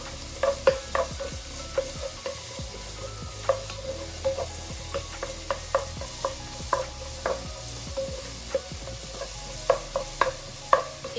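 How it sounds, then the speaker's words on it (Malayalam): Onion and green chili with salt are sautéed in a pan, a steady soft sizzle under repeated scraping strokes of a spoon stirring at an uneven rhythm, close by. "നമ്മൾ ഒണിയനും പച്ചമുളകും ഇട്ട് വഴറ്റുന്നുണ്ട് കേട്ടോ"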